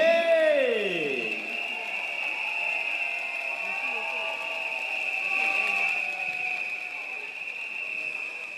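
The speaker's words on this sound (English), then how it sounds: "all give a round of applause for VJ" A stadium crowd at a People's Action Party rally at Jurong East Stadium keeps up steady applause and cheering from start to finish, with a brief sweeping PA tone at the start.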